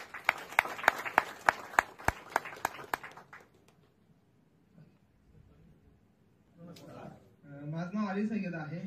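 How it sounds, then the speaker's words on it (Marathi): An audience claps in a quick, even rhythm for about three seconds for a speaker being welcomed at a gathering, then the hall goes quiet and someone begins speaking. "जोरदार टाळ्या."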